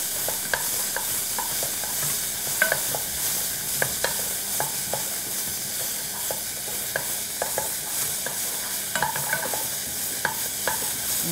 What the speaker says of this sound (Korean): 마늘을 먼저 볶아주시고 다진 양파, 샐러리를 넣어서